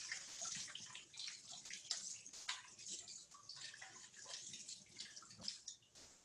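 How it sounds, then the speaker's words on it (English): Cauliflower rinsed quickly under running water, a faint, continuous hiss and splash with small drips and gurgles, steady throughout and fairly distant, with no one talking. "I'm going to rinse it really quickly in some water"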